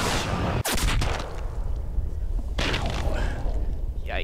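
A rifle shot fired at a game animal in Cabela's Big Game Hunter lands as a loud sudden crack, then a sustained rumbling roar and a second burst of noise, with no talking.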